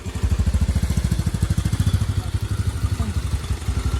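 A motorcycle engine idles close by with a fast, even putter that stays steady for the whole stretch, with no voices.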